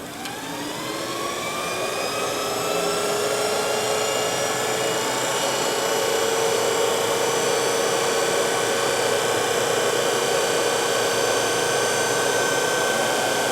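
An electric motor spins up a Jeep CJ7 flywheel fitted with a coupler in an EV conversion, giving a steady rising whine that settles into a loud, continuous high-pitched hum with no talking.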